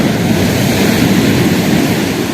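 Ocean surf breaking on the shore at Carnac, a loud, continuous wash of churning water with a broad roar and no distinct individual crashes, no voices.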